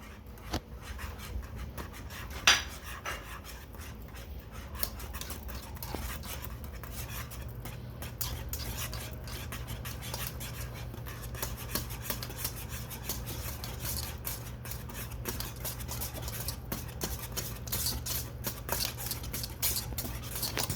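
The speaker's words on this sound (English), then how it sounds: "So now I'm going to put our butter in first, and our vanilla. And I'm going to mix that in slowly." Butter and vanilla worked slowly into hot chocolate pie filling, producing a steady rough scraping and rubbing of a utensil against the pot, continuous and close under a low constant hum.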